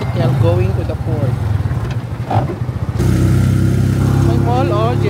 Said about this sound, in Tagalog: tricycle going to the port